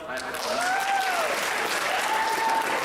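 Clapping from an audience at a poetry rumble swells and holds steady before a poem, while a voice speaks briefly over it.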